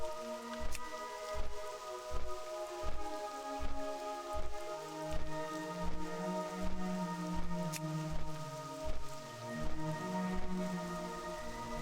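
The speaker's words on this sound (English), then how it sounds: "Looks like it's a rainy day in Elwood Forest." Steady rain falls in Elwynn Forest in World of Warcraft, a soft patter of drops on surfaces heard alone under a calm ambient game music backdrop with regular gentle pulses.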